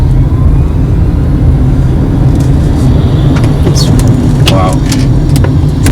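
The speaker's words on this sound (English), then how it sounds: "So that is the acceleration of the car." A Tata Tigor EV electric car accelerating at full throttle in sport mode, a steady low road and motor rumble heard from inside the cabin, with a brief exclamation from a passenger.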